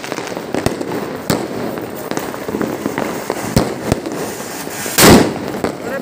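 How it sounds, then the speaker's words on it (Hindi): Firecrackers go off during a Diwali celebration, sharp cracks scattered irregularly over six seconds, some near and loud, with one bigger crackling burst near the end over background crowd noise. "और ये हमारे पति चला रहा है पटाखे।"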